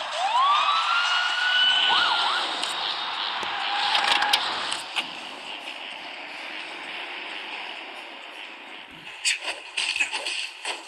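A police siren wails in a Las Vegas gangster video game, loud at first with rising and falling sweeps, then fading into a busy city-traffic background with scattered clanks and bursts.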